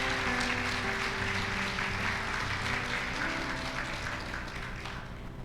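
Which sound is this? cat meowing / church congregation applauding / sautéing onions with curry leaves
church congregation applauding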